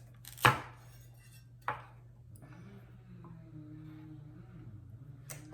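Butternut squash being cut into small pieces for roasting with a whole chicken: two sharp knife chops on a board, the first loud and the second lighter, then a soft steady hum with a faint tap at the end.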